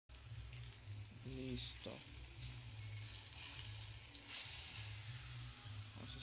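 Food fries in oil in a pan on the stove with a constant close crackling sizzle, while a voice speaks briefly in Spanish and a few utensil clinks sound.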